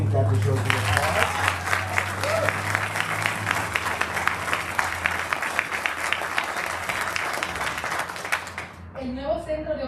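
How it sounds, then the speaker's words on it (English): Audience applause at an outdoor groundbreaking ceremony for an apartment redevelopment, sustained broad clapping from a crowd for about nine seconds before cutting off, with a voice speaking briefly at the end. "I think that deserves an applause."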